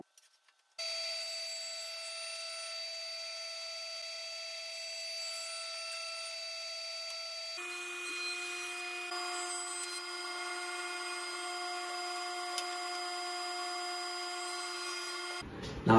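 A table saw ripping wood against the rip fence, with a steady high motor whine that drops to a lower, heavier tone midway as the blade bites into the board, then cuts off abruptly near the end.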